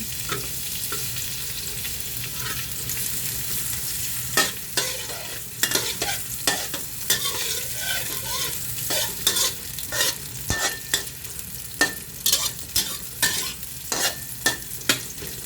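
Chicken liver and gizzard sizzle in hot oil under a continuous bright hiss, joined after a few seconds by a quick series of sharp scraping and clacking stir strokes from a spatula in the pan.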